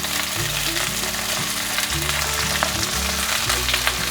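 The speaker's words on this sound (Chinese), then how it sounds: "节瓜也放进来煎。" Zucchini and potatoes pan-frying in oil, with a continuous bright crackling sizzle heard up close over a low droning background hum.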